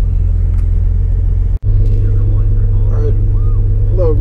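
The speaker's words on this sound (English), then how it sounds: "I'm just doing this little drive so I can show you guys, like, it's really that noisy in here and whatnot." Steady low engine drone and road rumble inside a 1987 Chevrolet S10 pickup with a 2.8L engine, driving at night, loud and continuous with one brief dropout and faint background voices.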